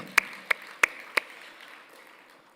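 A handful of sharp, separate claps ring out in a church's evening worship service for the worship team, four distinct hits spaced unevenly before fading into quiet.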